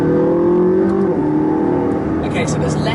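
A McLaren 675LT in track mode revs hard and shifts gears, the engine note climbing, dropping at a shift and climbing again. The sound is close and loud inside the car.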